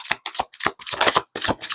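Kipper fortune-telling cards being shuffled by hand in a run of crisp, riffling bursts separated by short pauses, close and clear with no talking.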